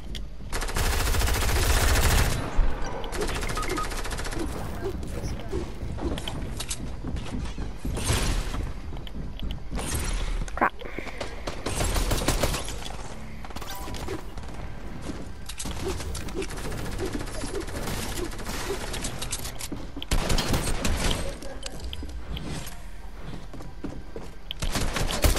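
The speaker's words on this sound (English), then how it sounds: "I have an assault rifle and that's it." Assault rifle fire in a shooter video game: repeated bursts of automatic gunfire spread across the whole stretch, loud and close, with short pauses between volleys and mechanical clatter mixed in.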